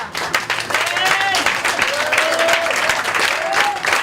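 A church congregation applauds and cheers, dense loud clapping throughout with raised voices and calls rising over it.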